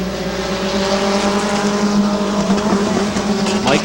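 Race cars roar through a heat race at Midvale Speedway, a loud, sustained layered engine drone with several cars revving together and a rising whine near the end.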